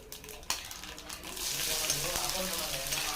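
Sliced onion added to hot oil with mustard seeds and spices and sautéed in a pan: a brief clatter, then a steady, fairly quiet sizzle that swells and holds, with no voice over it.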